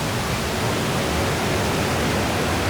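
Mountain water rushes through the Partnachklamm gorge in Germany as a steady, loud, dense roar, with no pauses and no voices.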